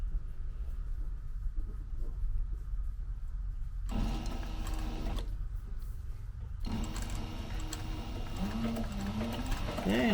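A sewing machine back stitches and then sews forward along a zipper's rolled edge on a duffel bag, in several separate bursts of rapid mechanical stitching with quiet pauses between, heard close up.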